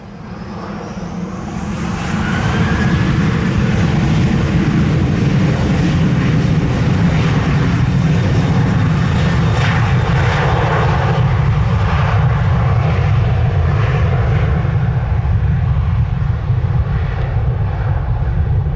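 An American Airlines jet takes off from runway 07 at Montego Bay, its engines swelling from a rising whine into a loud, steady, broadband roar that holds close and strong throughout, with no talk.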